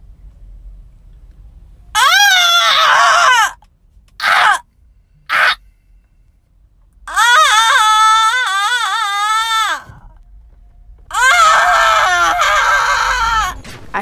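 A woman yells loudly and shrilly in mock celebration, as if winning a VMA award: a long scream, two short bursts, then two more sustained wavering screams separated by silences.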